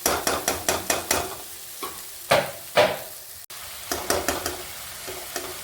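Masala for a pigeon pea (tur) curry being sautéed in a pan, a run of rhythmic spatula scrapes and taps over a light sizzle, pausing briefly, then resuming in quicker strokes.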